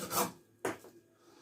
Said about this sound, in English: I love these saws.